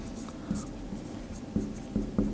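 Chalk or marker scratches and taps on a board during a classroom lesson, a few short strokes over a quiet background, with no talking.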